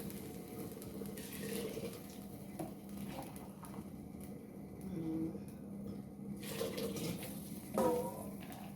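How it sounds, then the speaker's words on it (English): Water runs from a kitchen tap into a pot at home in a steady, fairly quiet stream, with faint clinks of cookware mixed in. "I'm just going to go ahead and add some from my tap over here."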